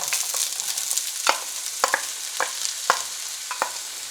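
Diced onion frying in oil to caramelize, a soft continuous sizzle broken by several sharp scrapes of stirring, no voices.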